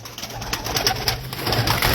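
Pigeons coo in a loft, soft repeated throaty calls rising over a low steady hum, close by and fairly quiet, with no talking.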